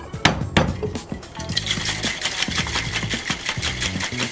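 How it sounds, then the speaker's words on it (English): Cocktail shaker dry-shaken with a spiced pear gin fizz and egg whites, no ice, a loud rapid rhythmic sloshing and rattling that starts after a couple of taps and keeps a fast steady beat. "we're gonna dry shake it"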